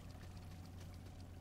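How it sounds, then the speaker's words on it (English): Steady flowing water in the Salt & Sanctuary game, a soft continuous rushing wash with a low hum beneath, faint and unbroken with no talk. "I hear water."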